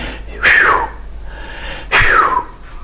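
Two sharp exhaled breaths, each a quick forceful puff of air that falls away, with a short pause between them.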